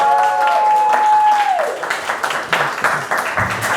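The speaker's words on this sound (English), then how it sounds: "please give a massive round of applause to Ash Ali." Audience applause rises for a speaker being welcomed on stage at a talk, starting under a fading sustained musical tone and continuing as loose, moderately loud clapping.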